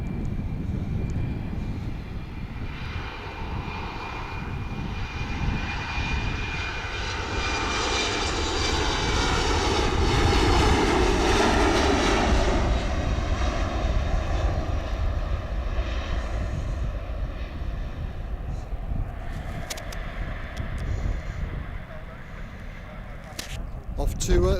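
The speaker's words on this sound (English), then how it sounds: "We've got an Embraer 195, Austrian Airlines." An Austrian Airlines Embraer 195 jet roars past at an airport, its engine noise swelling to a peak midway and then easing off, heard from some distance with a steady broadband rumble and whine.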